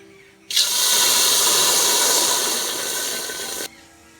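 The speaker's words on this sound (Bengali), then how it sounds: "দুধটা যাতে লকিতে নিচে না লেগে যায় তার জন্য আমি প্রথমে জল দিয়ে দেবো অল্প করে।" A little water poured into a cooking pot on a stove before milk is added for homemade paneer, a steady hissing splash lasting about three seconds that starts and stops abruptly.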